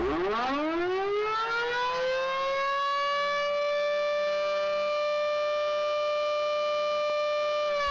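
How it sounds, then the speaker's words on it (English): A 1950s volunteer firehouse siren in Kettering, Ohio winds up from a low moan to a long, steady high wail, loud and sustained with no other sounds over it. "The firehouse siren calls the local volunteers."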